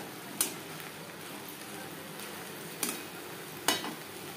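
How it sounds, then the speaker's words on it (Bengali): Finely chopped okra fries in a pan over high-medium flame under a faint, even sizzle, with three brief spoon taps and scrapes as it is stirred. "হাই টু মিডিয়াম ফ্লেমে আরও 2-3 মিনিট নাড়াচাড়া করে দেবো।"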